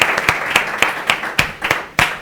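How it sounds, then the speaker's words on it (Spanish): Audience applause for a speaker at an event, a brief burst of fairly sparse, loud hand claps in quick irregular rhythm, close and clear with no talking over it. "Carlos, vamos a dar un aplauso."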